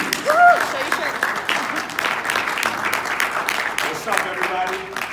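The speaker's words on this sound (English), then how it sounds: "let's hear a nice round of applause for Bladimir Mercedes" Audience applause greets a credit expert at a live presentation, a steady wash of clapping mixed with crowd noise and some voices, fairly loud throughout.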